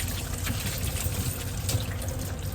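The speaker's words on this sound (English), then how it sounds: "Always wash your hands" Tap water runs steadily for hand washing, a continuous close splashing stream with no voices.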